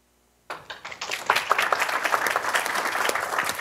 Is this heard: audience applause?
yes